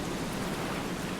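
Steady rain pattering against wood, a dense, even wash of close tapping with no pauses and no voices.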